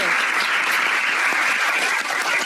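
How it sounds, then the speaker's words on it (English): An audience at a Georgetown Law graduating-class lecture applauds Senator Mazie Hirono, a steady wash of many hands clapping that stays even and fairly loud throughout. "Round of applause for the amazing Senator Hirono."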